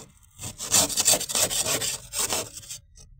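Ice scraped off a frosted vehicle with a hand scraper, a steady rough rasping in several long back-and-forth strokes, loud and close, then stopping abruptly.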